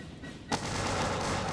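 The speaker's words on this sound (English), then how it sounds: "Good volley right there." A musket volley in the Bannerlord game, set in early-1700s European warfare, erupts as one sudden blast. A dense rolling rumble of massed fire and battlefield noise follows, fairly faint and distant.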